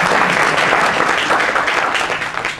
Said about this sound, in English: And Pete wants some applause also.